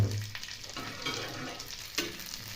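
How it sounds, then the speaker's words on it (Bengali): Almonds, raisins and a bay leaf frying in ghee for sago payesh, a soft, quiet sizzle with light stirring scrapes and one small clink near the end, close but faint. "আমি এখানে আলমন্ড আর কিশমিশ আর তেজপাতা একটা দিয়ে দিলাম। ঘিতে ভালো করে ভেজে নিয়ে"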